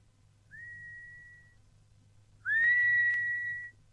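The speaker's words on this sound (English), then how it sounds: "Whistle twice and give password." Two whistles given as a signal: a clear, steady single-pitched whistle held about a second, then after a pause a louder, slightly rising second whistle, alone over a faint low hum.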